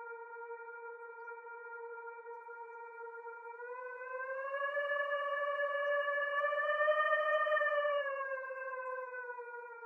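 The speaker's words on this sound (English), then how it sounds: "As air passes around a cylinder, vortices are shed, and this creates a sound known as the Aeolian tone." Steady Aeolian tone produced by air vortices shedding around a cylinder, a clean whistling hum that holds level, then rises in pitch and loudness midway before easing slightly, alone with no other sounds.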